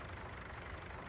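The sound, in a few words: small farm tractor engine idling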